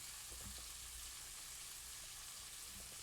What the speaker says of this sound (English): Mushrooms in the thing. And then we need to saute it for about 3 minutes.